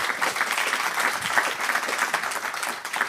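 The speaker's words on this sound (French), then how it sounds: "Oui, on peut déjà vous applaudir." Steady, dense applause from a studio audience during a French science discussion on space propulsion, filling the whole stretch at an even, lively level with no pauses.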